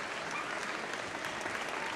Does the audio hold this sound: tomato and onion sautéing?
no